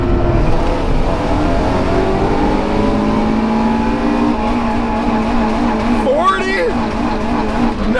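A Honda car accelerates hard in first gear, its engine note climbing steadily and loudly for several seconds before a quick gear-change dip near the end, heard from inside the cabin.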